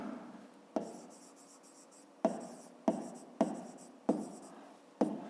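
A pen scratches across paper while a fifth-grade math exercise is worked out by hand, with a few sharp taps as each stroke begins and steady scratching between them, close and fairly quiet with no talking.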